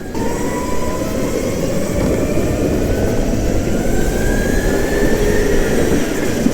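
A go-kart engine drones steadily through a race, a continuous loud mechanical roar with a slowly rising whine, close to the listener and without speech.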